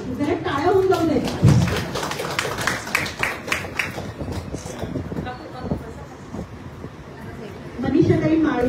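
An audience at an award ceremony breaks into dense, fluttering applause that swells and then tapers over several seconds, with voices talking over it and a speaker's voice returning near the end.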